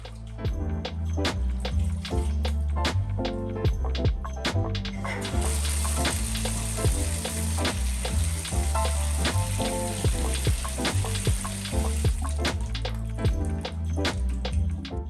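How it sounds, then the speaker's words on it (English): Cold running water rinses snow-dyed fabric, producing a loud, continuous splashing and hissing stream with steady turbulence from start to finish. "First, I quickly rinsed each item with cold water just to get as much of the excess dye off as possible."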